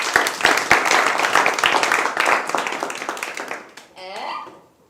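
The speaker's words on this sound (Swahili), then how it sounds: "Mpigeni makofi." An audience claps hands in a dense burst of applause that thins out toward the end, and a voice briefly speaks as the clapping fades.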